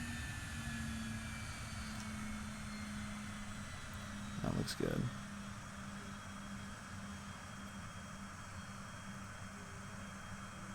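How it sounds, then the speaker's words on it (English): A jet engine in a flight simulator hums steadily with a faint whine slowly falling in pitch, while a voice speaks briefly partway through. "we're gonna get the right engine coming down"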